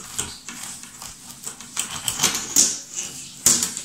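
A knife cuts through a freshly baked brioche loaf, giving a close run of dry, crackling crunches and scrapes of varying strength.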